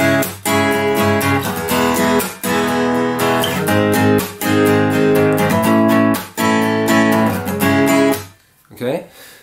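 Acoustic guitar plays the live-style strumming pattern of a song, opening with a quick sixteenth-note down-up before the steady down-up strums. Loud and close, with short rhythmic breaks, and it rings out and fades near the end.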